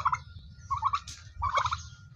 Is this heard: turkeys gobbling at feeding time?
yes